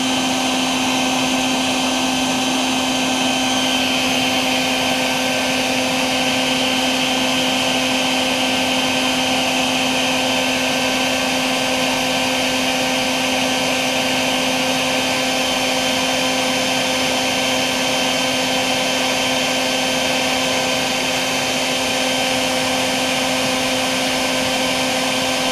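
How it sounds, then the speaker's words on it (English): A strong vacuum sucking yellowjackets from a yellow-haired yellowjacket nest, a loud, continuous motor whine with a steady high hum that holds unbroken throughout, with no talking. "The vacuum is plenty strong."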